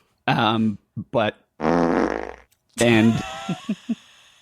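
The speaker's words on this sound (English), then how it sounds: "fart drops" Loud cartoonish fart sound effects, a series of buzzy, tonal blasts of varying length with short sputters between them, close and dry, ending in three quick small pops.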